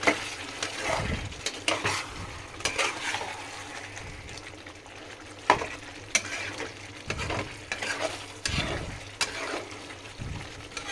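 Curry being sautéed and stirred in a pan, with a steady sizzle beneath repeated scraping strokes of a spatula, close up and without talk, running continuously.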